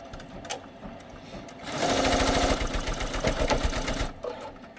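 An Avance embroidery machine stitches in a rapid, rhythmic mechanical patter for a couple of seconds, rising out of quieter background noise and then stopping.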